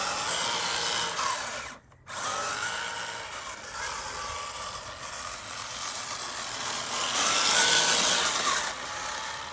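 Hobbywing AXE motor in an RC crawler run at full throttle, a steady close whirring drone with a brief dropout early on, then climbing slightly louder toward the end, no talk.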